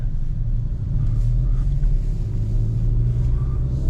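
A Hyundai i20 N driving slowly during its break-in period, a steady low engine and road rumble heard from inside the car, even and continuous without revving.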